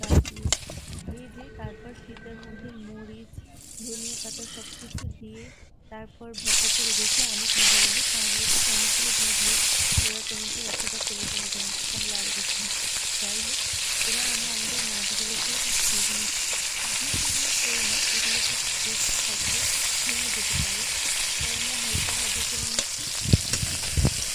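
Steady sizzling of sole fish frying in hot oil fills the scene, with a brief quieter break early on and occasional clinks of stirring.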